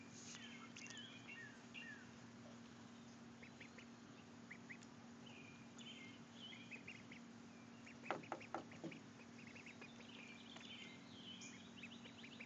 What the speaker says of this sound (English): they're just starting to quack instead of just chirp